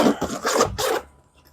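A DEWALT tool backpack pouch is zipped open in a few quick, loud rasping pulls close up, each a harsh scratchy stroke, ending in a near-silent pause.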